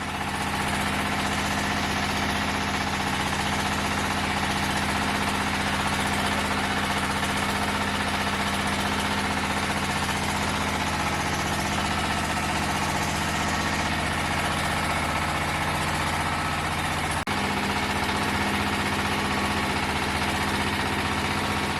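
A diesel engine drives a fly ash brick machine, running at a constant loud, rumbling idle with steady vibration throughout and one brief sharp knock near the end.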